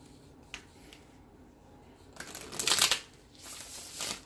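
Tarot cards are shuffled by hand in a few soft riffling bursts, quiet near taps at first, then two louder flurries of card noise.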